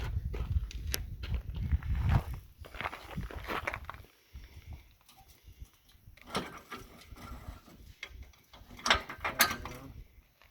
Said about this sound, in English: once I swing the jack down I can run that. I'll do that real quick.